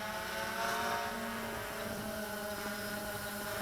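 An XK Detect X380 drone hovers in flight at Mount Shasta, a continuous whining propeller drone with steady harmonic tones, fairly distant and even in level.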